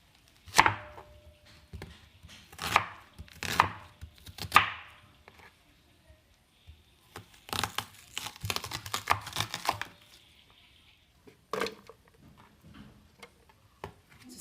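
Knife chopping onions on a board: clusters of sharp close taps, a few spaced strokes early, then a quick rapid run of cuts, and a last lone chop, with quiet gaps between.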